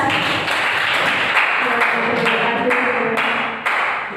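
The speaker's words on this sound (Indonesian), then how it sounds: "tepuk tangan untuk latihan" Audience at a school teacher-training dissemination session clapping steadily throughout, with dense overlapping claps and several sharper individual claps standing out.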